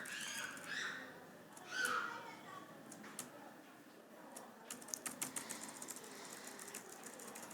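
Computer keyboard keys pressed to enter and save data in Tally Prime accounting software: a few faint, quick clicks in a quiet room, with a voice talking over them.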